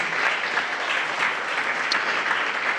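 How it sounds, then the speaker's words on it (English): Sustained audience applause for a guest at a pitch day event, steady, dense clapping from a crowd filling the room throughout without a break. "Please give Eric a round of applause."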